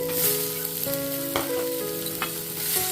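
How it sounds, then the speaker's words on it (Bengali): Chopped tomato hits a hot frying pan for a vegetarian dalia khichdi, a loud continuous sizzle with stirring and a few sharp spatula scrapes and clinks. "এবারে আমি এর মধ্যে একটা কেটে রাখা টমেটো অ্যাড করে দিচ্ছি"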